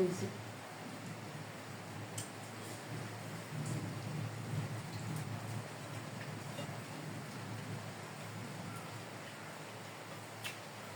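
Steady rain falling outside during a wet, darkening evening, a continuous soft wash of drops at moderate distance with a few faint sharper ticks, no talk over it.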